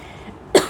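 A single short, sharp cough from a woman indoors, loud and close after a near-silent pause.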